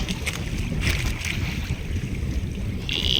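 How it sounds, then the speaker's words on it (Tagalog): Fishing boat rocking on open water at night while squid fishing, a steady wash of water and wind noise with soft creaks and knocks close by. "Galaw ng bangka."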